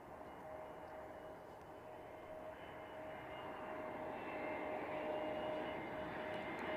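A plane at Edinburgh Airport with a broad, steady jet roar that slowly builds in loudness over several seconds and carries a faint tonal whine, heard from a distance with no talking.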